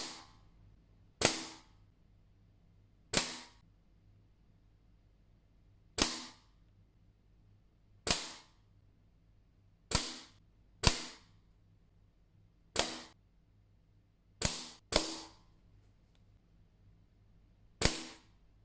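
Air rifle fired at 10 m targets, about ten sharp, close single shots spaced a second or two apart, each a crisp crack with a short decay over quiet room background.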